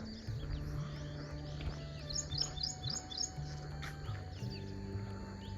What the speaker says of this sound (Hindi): छोटा सा उल्लू यहाँ बैठा हुआ है।